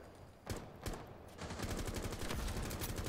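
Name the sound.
gunfire in a video game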